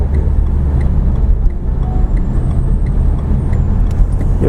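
A car lapping a wet racing circuit, its engine and road roar loud and steady from inside the cabin, with faint ticking over the constant rumble.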